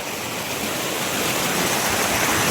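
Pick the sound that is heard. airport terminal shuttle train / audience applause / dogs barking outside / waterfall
waterfall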